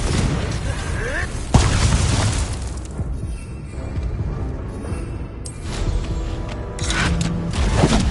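A Confringo blasting-curse spell explodes with a loud, sharp boom, followed by rumbling blast noise and later smaller bursts. Voices speak around the blasts.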